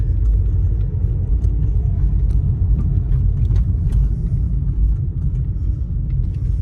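Audi A3 on H&R Deep coilovers with suspect, bouncy shocks, heard from inside while driving: a steady loud low road rumble and tyre drone with faint knocks and rattles over the surface, no talk.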